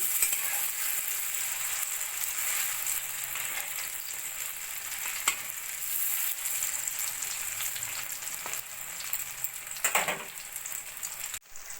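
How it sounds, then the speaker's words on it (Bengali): Continuous bubbling crackle of mustard flower fritters frying in oil, close and steady, with occasional faint clicks of a utensil. "বড়াগুলোর একটা পিঠ আমার ভাজা হয়ে গেছে এবার আমি আস্তে করে উল্টে দেবো"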